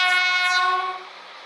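A Class 142 Pacer diesel railbus, built in 1985 from bus parts, sounds a loud sustained multi-tone horn as it departs in the Stepford County Railway game, fading toward the end.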